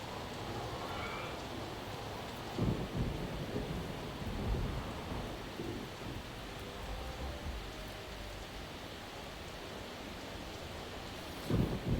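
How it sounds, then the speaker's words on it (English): Steady rain hiss with low rumbling thunder in the video game Roller Coaster Tycoon 2, filling the whole stretch with a few louder rolls near the start, middle and end. "Uh-oh, it's starting to rain here."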